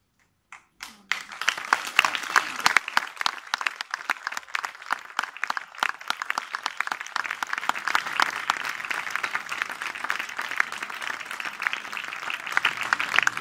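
An audience applauds the actors after a theatre recitation of Berlincioni's Donne Offese, dense steady clapping starting abruptly after a brief quiet moment and swelling slightly, continuing alone for over ten seconds.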